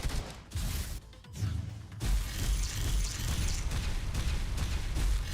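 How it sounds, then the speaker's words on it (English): Deep, rumbling blasts roll one after another over a dense wash of crackling debris, loud and close with no voices. "Explosions."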